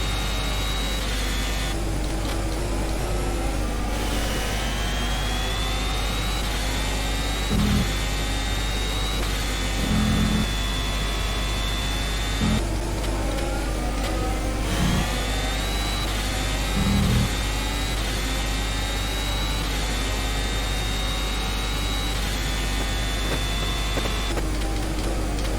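Simulated Formula 1 2020 car engine in rFactor at the Bahrain Grand Prix, a steady high-pitched whine climbing through the gears on the main straight, with brief dips at each upshift, loud and continuous throughout.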